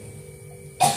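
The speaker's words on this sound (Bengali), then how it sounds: "আর এত কাশি হয়েছে আমার" A single short cough bursts out suddenly near the end after near silence, close and fairly loud.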